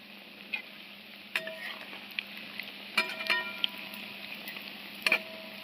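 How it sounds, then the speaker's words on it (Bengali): Palm fritters made with sugarcane jaggery fry in hot oil, a soft continuous bubbling hiss broken by sharp ticking pops and spatters, close and alone without talk. "তেলের মধ্যে দেওয়ার সাথে সাথে কত বড় বড় টোপকা টোপকা হয়ে যাচ্ছে"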